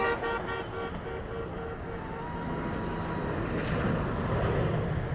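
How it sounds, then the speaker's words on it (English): A jet carrying the US president departs from an airport, its engines roaring in a loud, steady, broad rumble with a tonal whine on top. The noise builds slightly as the plane moves off, with no talk. "And now the plane begins its departure."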